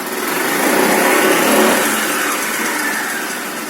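A Honda Forza MF-08 scooter with an electronic variator, freshly repaired of its variator knock, idles steadily and close by with a smooth, even engine hum and no knocking, alone with no talk.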